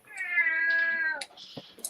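A single clear, drawn-out cat meow, close and fairly loud, followed by a few faint indoor rustles and clicks.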